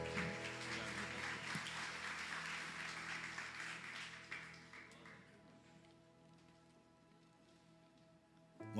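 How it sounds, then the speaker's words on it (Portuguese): A church congregation applauding, a dense, steady wash of clapping that fades gradually toward the end, heard from a distance at low volume. "aplauda o Senhor"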